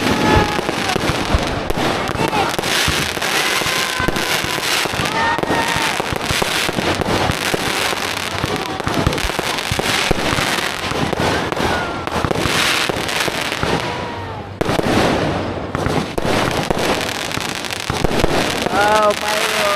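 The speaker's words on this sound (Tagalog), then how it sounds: "fireworks!" Christmas fireworks burst and crackle continuously nearby, a dense barrage of pops and booms with whistling rockets, while people talk and exclaim over the noise and wind buffets the microphone.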